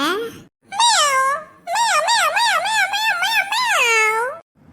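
Cartoon cat meowing, a voiced, expressive sequence of several wavering meows and a drawn-out cry, close and loud, likely a human voice imitating a cat.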